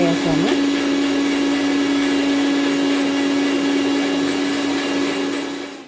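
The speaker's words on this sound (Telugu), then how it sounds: "ఇంకా జారులో అయితే కొంచెం వాటర్ పోసేసి మిక్సీకి అయితే వేసాను" A mixer grinder whirs loudly with a little water in its jar to clean it, a steady high motor whine starting with a brief rising spin-up and running evenly to a slight fade at the end.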